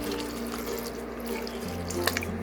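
Water pours steadily into a cooking pot holding banana stem, potato and poppy seed, a continuous close splashing stream with a few brighter drips near the end.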